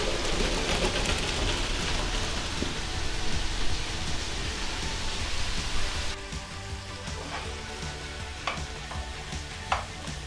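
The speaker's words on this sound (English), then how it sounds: "Let's drain them." Cooked fusilli pasta being drained, a steady loud rush of pouring water and splashing that eases after a few seconds into softer trickles and occasional drips.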